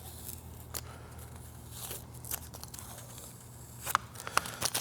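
Masking tape being cut and peeled away from a 3D-printed prop blaster, with scattered snips and crinkly tearing sounds over a steady background hum, a few sharper clicks near the end.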